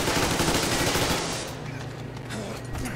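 Dense, rapid gunfire from the video game Metro Exodus rattles loudly up close, then thins into a quieter spell before more shots.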